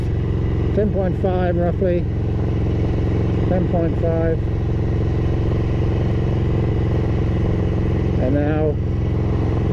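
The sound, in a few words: Ducati 900SS bevel motorcycle engine running during tuning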